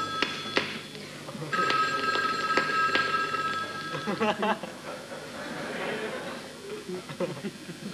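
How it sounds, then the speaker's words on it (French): A telephone bell ringing in a French broadcast setting, shrill repeated trills in short bursts, fairly faint beneath someone speaking over it. "Un coup de téléphone de dernière minute."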